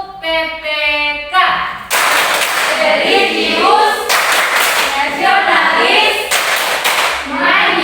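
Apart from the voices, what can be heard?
class of students clapping hands together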